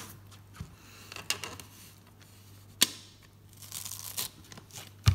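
A small pineapple corer with its handle fitted is pressed down into a pineapple, giving scattered crisp tearing crunches of fruit flesh and a sharp crack partway through, fairly quiet with no talking.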